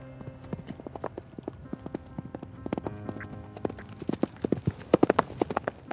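Hooves of a young Camargue stallion clip-clopping on ground in an uneven, quickening rhythm, close and clear, with occasional snorts and no talk.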